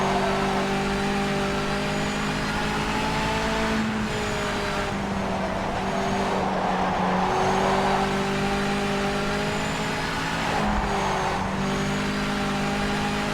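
A race car in the Project Motor Racing video game runs continuously, its engine droning and revving through gear changes and lifts, loud and steady throughout with no talk.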